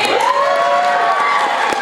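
Convention panel audience at Anime Midwest cheering and shouting with scattered applause, a loud, dense crowd roar with whoops that holds steady for about two seconds.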